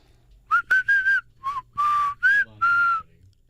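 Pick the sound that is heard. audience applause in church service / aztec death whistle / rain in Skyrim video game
aztec death whistle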